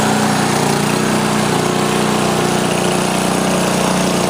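A Sears snowblower's newer, lean-running small gasoline engine runs steadily up close, a loud, continuous rough drone with no talking over it.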